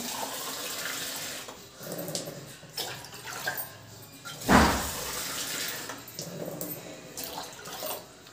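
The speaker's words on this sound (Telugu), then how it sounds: "త్రీ గ్లాసెస్ వాటర్ తీసుకుంటున్నానండి" Three glasses of water poured into a pot for boiling while cooking tomato upma, heard as faint running and splashing water with one louder close splash midway, in a quiet kitchen.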